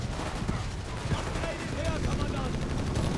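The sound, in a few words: machine gun fire in Company of Heroes 3 video game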